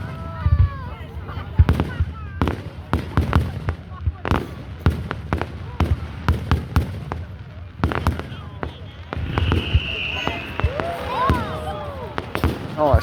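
A town's Canada Day fireworks display: repeated booming bursts and sharp cracks at irregular intervals, some distant and some closer, with crowd voices and chatter mixed in throughout.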